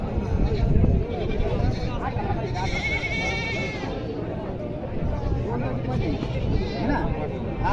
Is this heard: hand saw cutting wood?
no